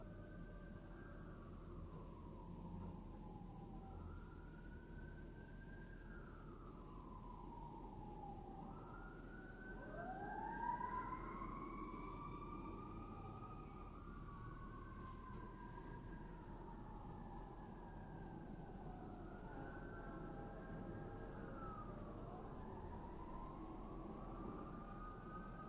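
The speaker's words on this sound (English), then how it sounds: "Sorry for the sirens." Several emergency sirens wail and rise and fall in overlapping sweeps, fairly distant, over a steady low background rumble for the whole stretch.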